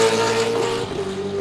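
A GTX prototype race car howls past at Sebring, a loud, close, high-pitched engine tone that dips slightly in pitch as it goes by in a brief burst.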